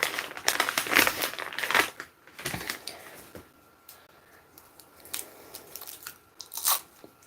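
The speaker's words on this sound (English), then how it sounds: "See how long I can talk with a cough drop in my mouth" A Halls cough drop clicks and crunches against the teeth in a mouth, with irregular close bursts of crinkly biting and chewing sounds separated by short quiet gaps.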